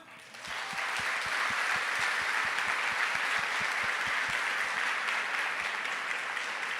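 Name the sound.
congregation applause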